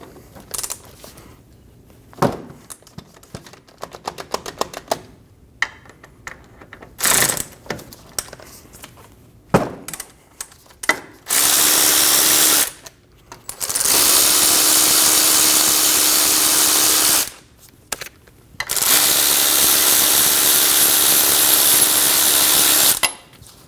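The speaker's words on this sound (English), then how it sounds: "Using a 12mm triple square, we're going to remove the wheel bearing bolts." Wheel bearing bolts come off a 2012-2022 Volkswagen Passat front hub using a 12mm triple square, with ratchet clicks and metallic clinks giving way to long, loud bursts of a power tool spinning.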